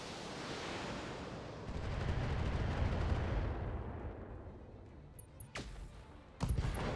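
Mech weapons in BattleTech unleash a long, dense roar of gunfire that swells then fades, followed by a couple of sharp, loud blasts near the end.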